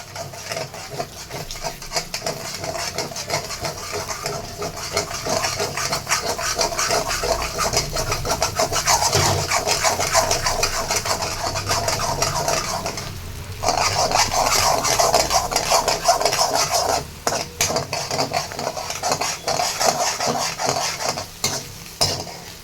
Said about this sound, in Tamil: அண்ட் ஃப்ரைட் ரைஸ் மாஸ்டர் பண்ணுற மாதிரியே கிண்டிக்கிறேன்.